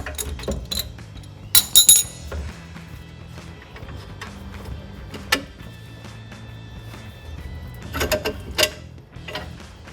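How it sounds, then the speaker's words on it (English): Metallic clinks and ratcheting of a 15mm wrench holding the nut on a rear upper control arm bolt of a Jeep Wrangler TJ, with sharp clustered taps and scrapes over a low background hum. "we're going to need a 15mm wrench on the back end to hold the nut in place"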